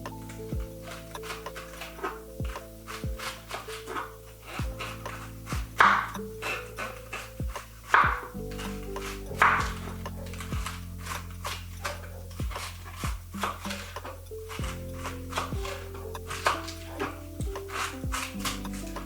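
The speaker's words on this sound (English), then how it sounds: "You can cut your cabbage whichever way you like, but I like mine thinly sliced." Cabbage being thinly sliced with a knife for coleslaw, a run of sharp close taps of the blade on a cutting board in an uneven rhythm, with no talk over it.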